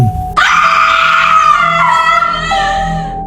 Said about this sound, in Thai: และก็มีเสียงกรีดร้องออกมาจากตู้เย็น